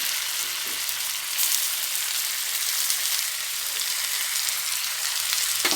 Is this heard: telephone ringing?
no